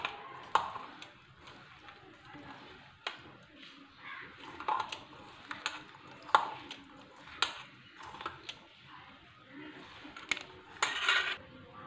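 Utensils clink and scrape against a dish while leftover roti is mixed with vegetables, cumin and red chili for breakfast; the taps are close and sharp, irregular and fairly quiet.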